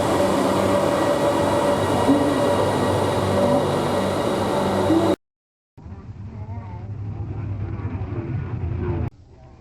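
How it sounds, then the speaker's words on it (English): Train to the airport near Luang Prabang, Laos, rumbling steadily and loudly for several seconds, then cutting out briefly before a quieter continuous rolling rumble resumes. "About to get the train to the airport"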